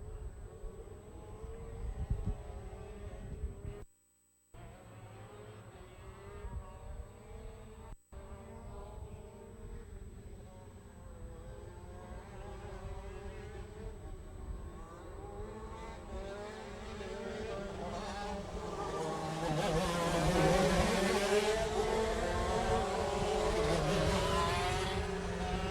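Shifter Masters racing karts at a Florida Winter Tour Rok race in Jupiter, Florida, buzzing past in a steady high-pitched engine drone that swells louder near the end, with several karts running together.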